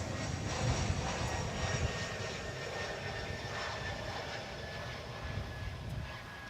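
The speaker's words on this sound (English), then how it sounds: "It's an Airbus A321, American Flight 1765. Touching down" An American Airlines Airbus A321 touches down at DFW Airport, its jet engines giving a steady, loud, broad roar that holds throughout with a slight easing toward the end.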